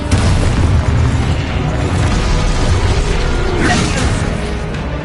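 Exposo explosion spell in Hogwarts Legacy: a loud, dense booming blast that rumbles continuously through the clip, with a brighter crackling flare near the end.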